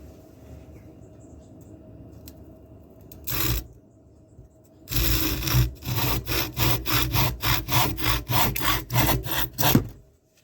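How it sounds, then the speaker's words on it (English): A hand saw cuts through a wooden dowel in a quick, steady run of back-and-forth strokes, close and loud, after a brief scrape and a pause. "I'm putting my dowel in just to hold it"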